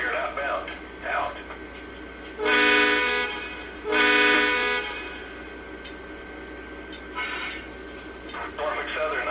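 A Norfolk Southern Dash 9 model train locomotive horn gives two long, loud blasts a second apart, set against a quieter background of a speaking voice and faint radio-like sound.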